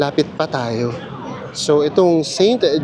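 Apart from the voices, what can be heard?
No everyday noises stand out.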